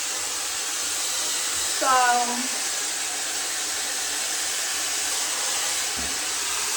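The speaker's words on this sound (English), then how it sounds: "This is literally like a power blow dryer." A hair dryer on its warm heat setting, fitted with a diffuser, blows with a steady broadband whoosh throughout; a voice briefly speaks over it near the start.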